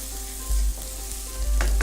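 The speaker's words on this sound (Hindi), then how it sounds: "जब तक हमारा ये मसाला भुन रहा है" Masala spices roast and sizzle in a pan for an achari vegetable dish, a steady close frying hiss with a few louder stirring bursts.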